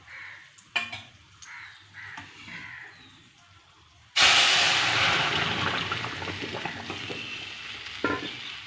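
Masoor dal with winter vegetables is poured into hot tempering and bursts into a loud sizzle after a quieter start with light clinks and birds cawing outside. The hiss then stays strong and slowly fades.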